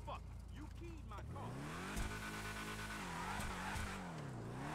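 Vapid Dominator GTT car in the GTA 5 video game, its engine revving up and settling with rising and falling pitch and a few sharp bumps, while someone talks over it.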